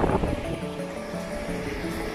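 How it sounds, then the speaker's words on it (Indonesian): Ocean waves from the open sea wash onto Wedi Klopo beach in Malang, a continuous broad surf wash mixed with wind noise, fairly loud and close. "Ombaknya sebenarnya cukup gede dari arah sana, dari laut lepas"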